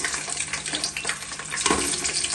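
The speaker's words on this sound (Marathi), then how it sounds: "आपण इथे तेल गरम करत ठेवलेलं आहे आणि जे हे भरलेले आहेत कवच ते आपण जरा फ्राय करणार आहोत" Chickpea-flour-stuffed crab shells fry in hot oil over a low flame, a dense bubbling sizzle with crackling spits and a louder surge toward the end, no voices.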